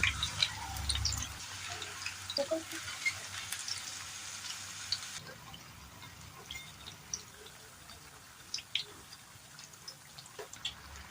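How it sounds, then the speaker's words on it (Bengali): Battered chili and coriander-leaf fritters fry in oil, giving a quiet, steady sizzle with scattered small pops and crackles throughout, louder for the first second or so before settling into a soft bubbling hiss. "এই তো মরিচের চপ ভাজা শেষ,"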